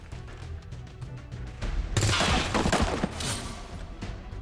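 Burst of gunfire in the PC tactics game XCOM 2: War of the Chosen, a loud rattling volley of rapid shots erupting after a quieter lead-in, then tapering into scattered cracks and echoes.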